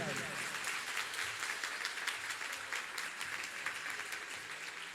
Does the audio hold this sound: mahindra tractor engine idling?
no